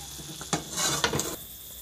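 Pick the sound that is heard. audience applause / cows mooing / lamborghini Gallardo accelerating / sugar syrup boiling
sugar syrup boiling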